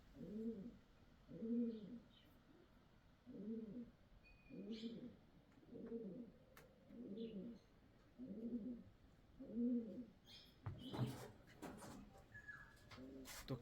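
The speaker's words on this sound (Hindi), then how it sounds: "कबूतरों की आवाज़ सुनो।" Pigeons coo in a steady series of soft, low, rolling calls, about nine in a row, with faint chirps and rustling in the background, near Jim Corbett National Park.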